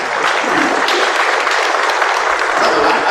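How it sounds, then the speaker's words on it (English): A church congregation at St. Bernard applauds a young lector after the Gospel reading, a sustained, even roll of many hands clapping that fills the space for a few seconds. "Let's give her a round of applause for that."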